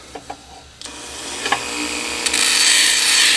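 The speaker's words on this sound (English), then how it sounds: "So where we bring in the handy dandy Dremel tool." A Dremel rotary tool lightly cleans up the cut ends of an arrow shaft. The sound starts with a few soft ticks and taps, then becomes a steady high grinding whir that builds in loudness and stays close and continuous without any talk.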